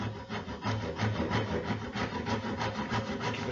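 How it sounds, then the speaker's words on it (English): Hand saw cutting through wood for a model boat, a steady close back-and-forth rasping with a quick regular stroke rhythm, heard alone without talk. "Keep the saw here like this."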